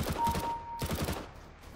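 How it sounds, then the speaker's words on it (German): An MP7 submachine gun fires in Counter-Strike: Global Offensive, two quick bursts of rapid automatic shots in close succession, fairly soft, followed by a fading tail. "Wir probieren mal einfach mal eine andere Waffe aus. Ich habe so gerade die MP7."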